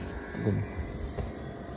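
A Honda Dio 125cc two-stroke scooter engine runs steadily up close, a continuous droning hum with a brief swell partway through.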